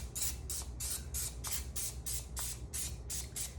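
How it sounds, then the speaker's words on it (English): Cooking spray hissing onto a non-stick mini muffin tin for sour cream biscuits, delivered in about a dozen quick, even bursts in steady rhythm, close and fairly loud with no talk. "You know what kind of spray this is."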